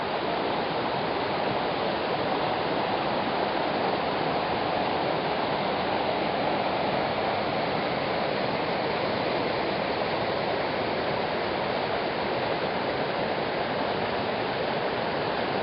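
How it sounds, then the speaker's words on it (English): A mountain creek rushes steadily beside a campsite, filling the scene with a loud, continuous broadband wash of flowing water. No other sounds break through. "Here's that creek I was telling you about that we camped right by."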